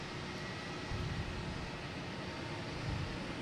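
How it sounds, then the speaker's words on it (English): An Airbus A380 takes off from Boston Logan Airport bound for London Heathrow, a continuous, rumbling jet roar at a distance that swells slightly and holds steady, with no voices. "A380 taking off,"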